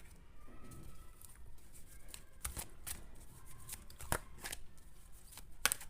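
Tarot cards riffled and shuffled close by, with a few soft quick bursts of card flutter against a quiet room.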